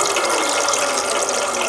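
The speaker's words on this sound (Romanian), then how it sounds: "Generator de curent făcut acasă." A homemade Stirling generator runs on a rocket stove alongside a high-flow recirculation pump, giving off a steady, dense mechanical whirring and hissing that continues without a break.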